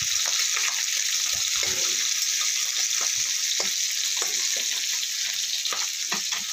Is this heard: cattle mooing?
no